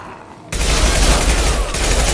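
Rapid shotgun and gunfire from the video game Mass Effect 2 bursts in abruptly after a quiet half second, then continues as a loud, dense, continuous barrage before easing slightly near the end.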